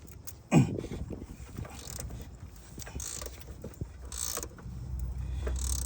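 A Snap-on 25-degree ratcheting box wrench, model BXORM 706, 18/19 mm, turns a bolt on motor mounts of a 2017 Nissan Altima 2.5 L four-cylinder, giving faint, sparse clicks and creaks after a single knock near the start.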